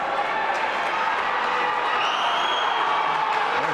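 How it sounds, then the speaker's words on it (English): Boxing crowd in the video game Fight Night Round 4 roaring and cheering in a continuous dense wash of noise, with commentary-style voices talking over it. "The crowd are loving this."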